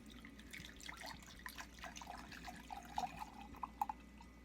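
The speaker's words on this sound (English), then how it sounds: "as I'm pouring the water in" Hot water poured into a cup to steep Samurai Mate tea, a soft continuous trickle with small splashy drips near the end, close and quiet with no talking.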